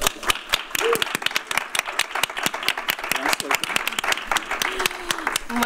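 Audience applause at an awards moment on a Spanish talk show, scattered distinct claps close up, fairly loud and continuous for several seconds, with brief voices heard under the clapping.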